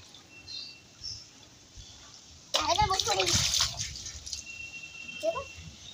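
A child bathing in a basin of water splashes in a sudden burst of sloshing and spattering after a quiet start, with voices speaking over it and smaller splashes trailing off afterward.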